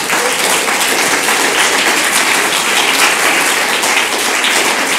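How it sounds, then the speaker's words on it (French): Dense, continuous applause from an audience cheering students at a school awards ceremony, loud and even throughout without pauses. "on peut les applaudir"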